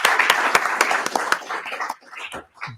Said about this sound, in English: Let's give a big round of applause to all of our panelists.